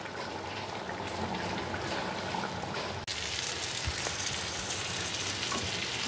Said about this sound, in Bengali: মশলা দিয়ে আলুটাকে ভালো করে কষিয়ে নিয়েছি।